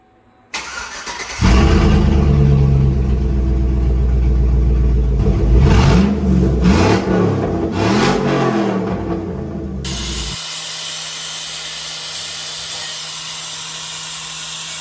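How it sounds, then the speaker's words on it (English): A 2005 GMC Yukon V8 with no muffler cranks and fires up, then roars loudly with several sharp revs before the engine cuts off, leaving a steady hum; no talking. "I'm gonna drop it down right quick and crank it just to see how it sounds with no muffler whatsoever"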